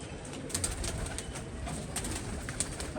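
Pigeons cooing around a loft, with a hen pigeon among the birds, heard as a steady, fairly close murmur of soft coos over constant rustling background noise, with a few brief sharper sounds.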